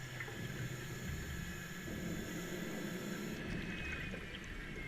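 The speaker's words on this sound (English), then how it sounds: "And that was a boat that just went overhead." A muffled, steady underwater rumble near the Hood Canal Bridge, with a high whining drone of a boat motor passing overhead, broad hiss throughout and the whine fading near the end.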